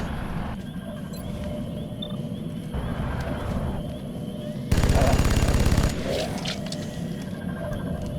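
Sustained automatic gunfire from an XCOM battle, a dense rapid burst around the middle standing out loudly over continuous game ambience and effects.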